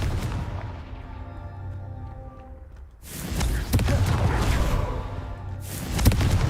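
Hogwarts Legacy's Confringo blasting spell erupts as a sudden loud blast, followed by crackling rumble and a second burst a few seconds later, rising over quieter ambient tones beforehand.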